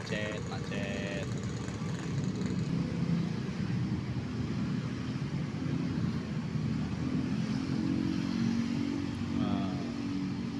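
Slow-moving holiday traffic on a village road in Kuningan, Indonesia, with car and motorcycle engines humming and droning steadily nearby, broken by occasional horn-like tones, while people talk over it.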